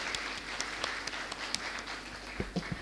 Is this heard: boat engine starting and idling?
no